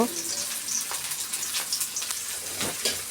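Onion and garlic fry in hot oil, a close, continuous crackling sizzle with scattered sharper pops.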